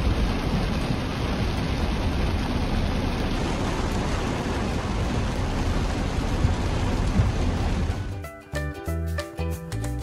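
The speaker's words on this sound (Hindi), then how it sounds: "बहुत बारिश है।" Heavy rain pours and thunder rumbles around a car driving through Chennai, a dense, loud wash of noise that cuts off abruptly near the end, leaving quieter, choppier sounds.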